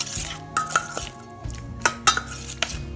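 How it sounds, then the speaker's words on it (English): A spoon clinks and scrapes against a bowl while tamarind vinaigrette ingredients are stirred together, giving a handful of light, close taps and knocks over about three seconds. "We mix them all together."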